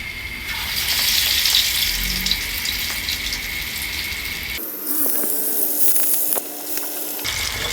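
Radish masala vada frying in hot oil, a bright, steady bubbling sizzle heard close up with no talking, its tone shifting slightly midway.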